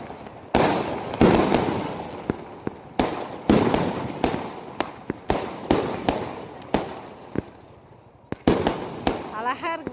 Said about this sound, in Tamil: வெடி வந்து அப்பப்போ வெடிப்பாங்க, விட்டு விட்டு வெடிப்பாங்க